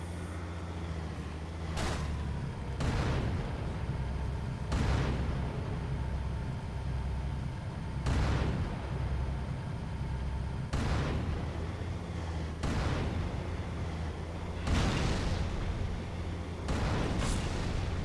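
Gunfire in a Halo-style shooter as the player fires on Flood enemies in a quarantine zone, with sharp repeated shots and bursts spaced every couple of seconds over a steady low rumble of game noise.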